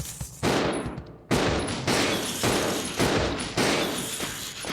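Pistol gunfire in Resident Evil Zero: a run of loud, sharp shots, roughly five in quick succession, each cracking out and ringing off before the next.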